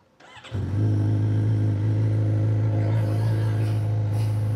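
A Suzuki GSX-R600 sport motorcycle cranks and fires up after a brief silence, then settles into a loud, steady idle with a deep, even engine drone that holds close and unbroken to the end.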